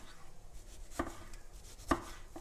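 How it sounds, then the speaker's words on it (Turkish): A knife chops a tomato into thin pieces on a board, giving two sharp, distinct chops with a faint third, alone against a quiet kitchen background. "Domatesimden de böyle ince ince doğramak istiyorum."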